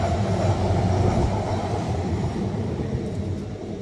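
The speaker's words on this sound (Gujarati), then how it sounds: "આ મારી રોજનું ટ્રેન ખર ખર ખર ખર" Deep rumble of a passing train in London with rolling low-frequency noise, loudest at first and easing slightly as it moves on.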